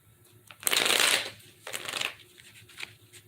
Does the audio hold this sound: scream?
no